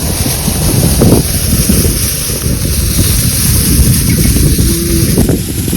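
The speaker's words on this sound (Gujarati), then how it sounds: "પવન બહુ આવે ને એટલે" Strong wind gusts batter the microphone in an open farm field, a loud, continuous rumbling roar with low buffeting that never lets up.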